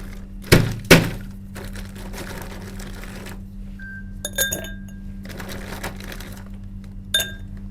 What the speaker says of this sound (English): Then after, you get your glass, put it on the scale. You need 60 grams ice.